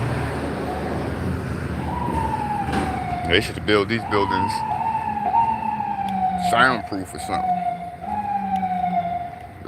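A wailing emergency vehicle siren on a New York City street, rising and falling in long sweeping tones above traffic noise, with someone talking over it throughout.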